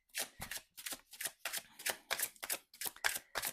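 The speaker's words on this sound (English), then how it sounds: "I will shuffle for one of my cards first, and then I will shuffle for some oracle cards." Oracle cards being shuffled by hand, about a dozen quick crisp riffling bursts in an even rhythm, close and clear with short gaps between them, with no talking.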